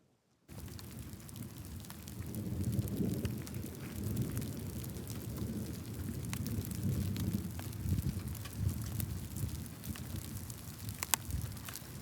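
Thunderstorm in open country outside Corson, South Dakota: steady rain hiss with low rumbling thunder rolling underneath, starting abruptly and continuing at moderate level with occasional sharper crackles.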